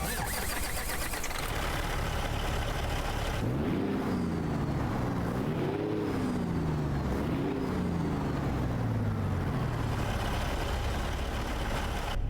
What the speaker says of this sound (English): let's go ahead and start up the truck here